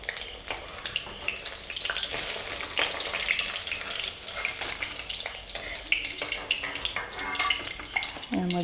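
White gourd fritters coated in gram flour and rice batter sizzle in hot oil, a steady close crackling hiss that runs throughout with faint clinks on top.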